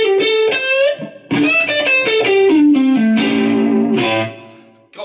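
An electric guitar runs through a Kemper profile of a 1962 blackface Deluxe Reverb with a touch of spring reverb and slight grit. It plays a close, loud single-note melodic phrase of ringing sustained notes, with no talk.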